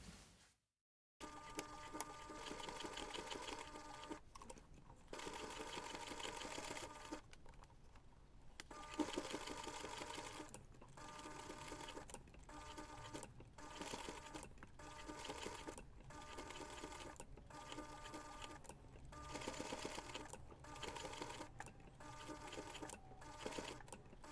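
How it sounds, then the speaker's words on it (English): A sewing machine runs steadily as it top stitches around the finished seam of a small fabric heart bookmark, with a whirring motor hum and rapid needle rhythm that pauses briefly a few times between runs. "you can take your bookmark to the machine and top stitch around that finished seam"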